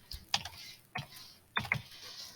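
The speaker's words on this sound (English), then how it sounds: "Typing in something on the other side." Computer keyboard typing in a few short bursts of clicky keystrokes separated by brief pauses, close and fairly quiet, no talking.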